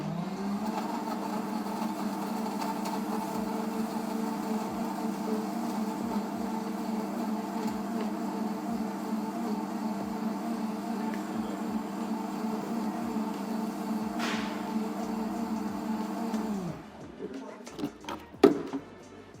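A Vitamix The Quiet One professional blender runs a green smoothie with ice, giving a steady, even motor whir with tonal hum for about sixteen seconds before spinning down, then brief clicks and handling sounds as the cycle ends.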